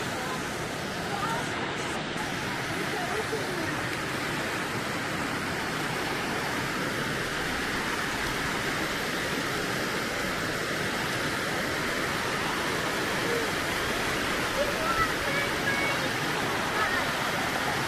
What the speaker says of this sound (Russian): А вот и водопад, да?